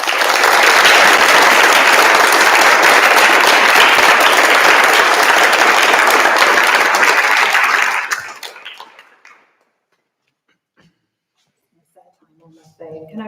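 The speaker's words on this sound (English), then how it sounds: "let's have a big round of applause first of all" Loud, dense audience applause for a speaker at an evening meditation gathering, a sustained roar of clapping for about eight seconds that tapers quickly into near silence, with faint talk starting at the end.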